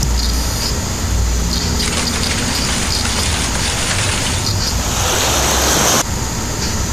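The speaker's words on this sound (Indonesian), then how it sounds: "Dan ada juga suara hujan." Rain pouring down steadily as a dense, loud hiss that holds level for several seconds and then thins out abruptly near the end, with no voices.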